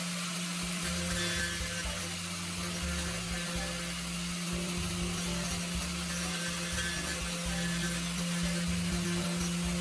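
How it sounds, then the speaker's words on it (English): An angle grinder cuts a circular disc from metal, producing a steady, loud, unbroken grinding whir with a low droning hum underneath that lasts the whole time. "You can see the sparks fly as it efficiently cuts through the metal."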